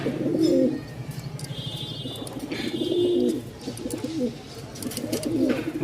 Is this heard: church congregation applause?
no